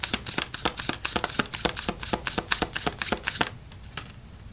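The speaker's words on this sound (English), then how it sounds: "So I'll just shuffle till it feels right." Cards riffle and snap in a rapid run of about a dozen crisp, close strokes for an I Ching reading, then slow to a couple of isolated taps in a quiet room.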